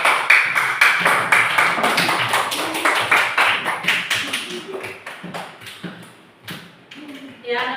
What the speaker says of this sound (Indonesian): Tepuk tangan dulu untuk ketiga kelompok.